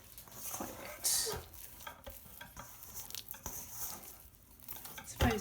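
A spatula stirs a wet, 70% hydration sourdough pre-ferment, making continuous sticky squelching and scraping sounds with occasional louder knocks against the bowl.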